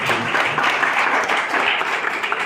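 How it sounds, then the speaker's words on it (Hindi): Audience applause at a health wellness program in Ghazipur, a steady wash of clapping from many hands, sustained and fairly even for the whole stretch. "एक दमदार ताली बनती है"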